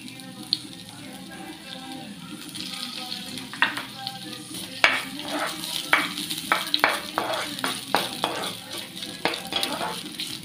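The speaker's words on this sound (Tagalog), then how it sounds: "Lutuin muna natin yung ginger." Ginger frying in a pan, with a steady broadband sizzle throughout and a run of sharp scraping stirs in the second half. Speech-like sounds are faintly present.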